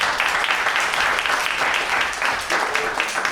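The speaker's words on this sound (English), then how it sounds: "Let's applaud the poet." Warm applause for a poet at a spoken word poetry slam in a Melbourne library, a steady clatter of many hands that holds level before easing slightly toward the end.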